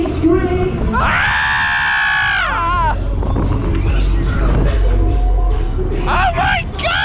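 Riders on the Air Raid 2 fairground ride at Kirkcaldy Links Market scream together in a long, loud, rising wail, then crowd shouting and clatter continue over ride noise, with a second burst of yells near the end.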